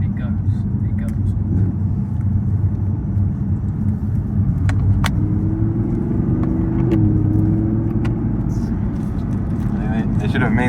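Audi R8 V10 supercar engine heard from inside the cabin, a loud continuous low rumble that swells slightly midway, with people talking over it.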